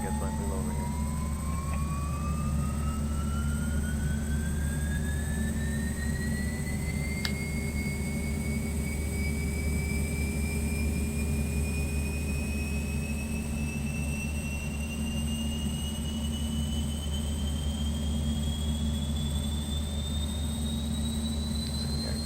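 Beech twin-engine aircraft in a flight simulator spinning up both engines, a steady rising whine that climbs in pitch over a constant low rumble, continuous and fairly loud throughout.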